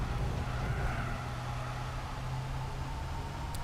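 Gran Turismo 4 car engine, a flat, steady synthetic drone with a constant low hum and broadband hiss, unchanging in pitch and level throughout.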